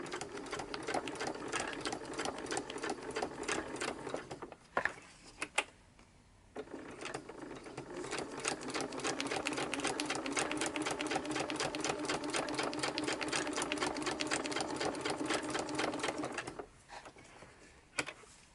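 Sewing machine stitching tags and journal cards onto junk journal pages, a rapid mechanical chatter running in long bursts, pausing briefly as the work is turned, then resuming, fairly close with no talk.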